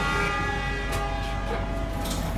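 Ranggajati passenger train departing Pasuruan station in Indonesia alongside the Pandalungan, with a steady rumble, a sustained harmonic horn-like tone and a few sharp hisses or clanks, fairly near.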